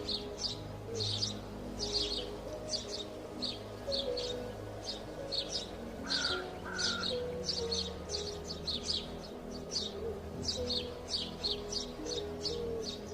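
Two pet birds kept in a house chirp in quick, repeated bursts throughout, fairly faint over a soft background, with no talking.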